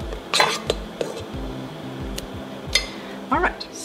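Spaetzle dough being mixed with leftover flour in a bowl, with several sharp clinks and scrapes of a utensil against the bowl in an irregular rhythm over a quiet background.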